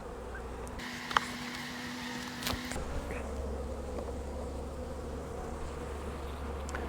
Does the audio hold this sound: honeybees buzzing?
yes